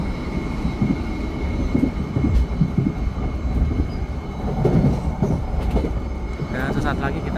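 Interior of the KA Ranggajati passenger train travelling from Jogja toward Jakarta, Indonesia: a steady low rumble of wheels on rail with rhythmic clatter and faint squeals, continuous and fairly loud throughout.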